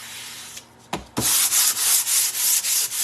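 Sanding block rubbed over a painted wooden porch leaner, brief scrapes first, then steady rhythmic back-and-forth strokes, close and fairly loud, with no talking.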